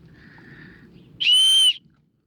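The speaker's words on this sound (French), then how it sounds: "on va quand même tester le sifflet" A hiking backpack's built-in safety whistle blown once, a short shrill tone lasting about half a second after a faint quiet lead-in.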